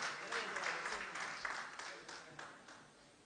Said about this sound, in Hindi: एक बार तालियां होनी चाहिए विकास जी के लिए, प्रथम पंक्ति से लेकर के अंतिम पंक्ति तक